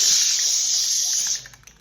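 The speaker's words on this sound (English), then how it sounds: "when you're spray painting, you just want to give very quick, push the button, quick light passes" A steady, bright hiss from a spray can sprays continuously for over a second, then cuts off with a faint sputter.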